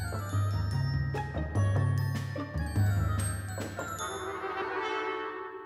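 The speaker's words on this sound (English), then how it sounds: "The music for Winston, the clever lizard, is played by the oboe" An orchestral oboe plays a melody as the theme for a clever lizard character, sustained reedy notes over bright tinkling percussion and chimes, moderately loud and close with no voices.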